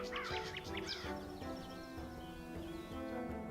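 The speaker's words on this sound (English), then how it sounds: "Birds are a little loud, yeah. So let's lower the birds." Video game birdsong plays up front: bright chirps and tweets, steady and fairly loud, layered over sustained tonal game music that carries on after the calls thin out.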